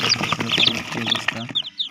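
Small Sonali chicks in a brooder peep in high, thin chirps several times against a background of muffled talking and low rustling.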